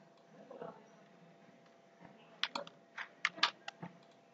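Computer keyboard typing during an Android programming session, scattered soft key clicks quickening into a burst of several crisp keystrokes in the second half, faint and close against a quiet room hum.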